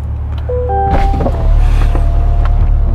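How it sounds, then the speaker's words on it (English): Electric motors whir and hum from inside the cabin as the power roof of a 2021 Corvette C8 Stingray 3LT Z51 convertible opens, with a steady low engine idle beneath. The sound is loud and close, with a few small mechanical clicks. "what I'm gonna do now is I'm gonna open up the roof"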